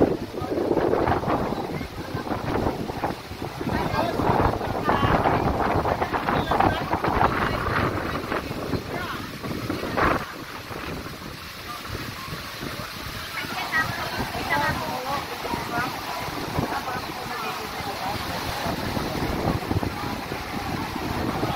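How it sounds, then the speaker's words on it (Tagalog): Strong wind roars and buffets the microphone continuously on Boracay, with a rushing, surf-like wash underneath and no clear pauses. "Sobrang hangin."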